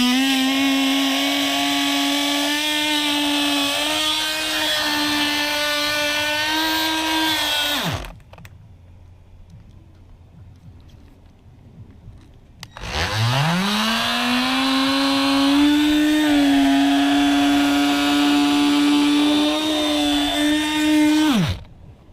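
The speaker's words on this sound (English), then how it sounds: "Howard cutout tool" A Howard cutout tool slices through the urethane bead of a 2017 BMW 340i windshield, a loud steady motorized drone that runs about eight seconds, cuts out for several seconds, then spins back up and runs steadily again.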